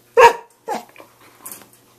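A dog of about 35 pounds barks nearby, with a loud first bark, a second weaker bark, then low growling and faint yips trailing off into quiet.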